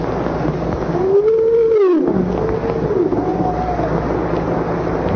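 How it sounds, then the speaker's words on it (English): Humpback whale calls recorded from a submarine: long rising and falling moans, loud and close, over a steady low rumble of submarine machinery noise. "First, the humpback whale."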